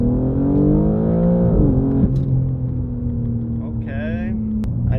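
A BMW M4 G82 xDrive accelerates hard from a launch on Pirelli tires, with the engine note climbing steadily, dipping briefly at a gear change, then rising again from inside the cabin, loud and close.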